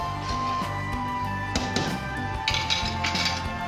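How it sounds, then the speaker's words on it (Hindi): A spoon stirs rice kheer with coconut powder in a pot, giving repeated light metallic clinks and scrapes against the pot over a soft, steady musical backdrop. "इसे मिक्स करते रहें ताकि लम्स नहीं बने।"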